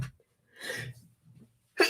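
A single close sneeze, with a short breath before it and a sharp burst of another at the end.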